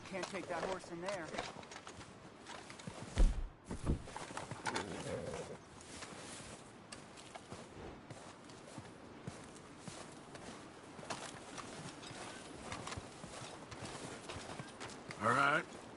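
Hooves of a horse in Red Dead Redemption 2 clip-clop along at a walking pace amid ambient game sounds, with voices talking over the steady rhythm.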